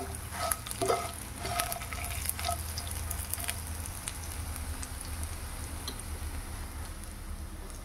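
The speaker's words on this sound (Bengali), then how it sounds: "মৌরি, মেথি আর রাঁধুনি ফোড়ন।" Fennel, fenugreek and radhuni seeds tempering in hot oil for lentils, sharp crackling pops clustered early over a continuous sizzle that settles into a steadier hiss.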